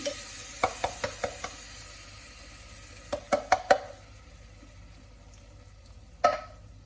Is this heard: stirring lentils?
yes